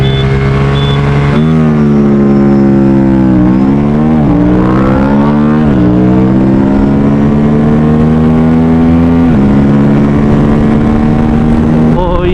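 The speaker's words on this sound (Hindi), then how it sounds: "तो चलिए लॉन्च करते हैं दोनों बाइक्स।" Two modified Aprilia RS457 sport motorcycles launch together, loud engine notes climbing in pitch, dipping at shifts and climbing again over several gears, close to the microphone and steady in loudness.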